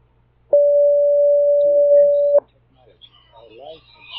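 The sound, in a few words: phone ringtone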